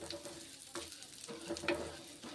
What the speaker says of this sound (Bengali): তারপর মুসুরির ডালগুলো বেশ ভালো করে ভেজে নিচ্ছি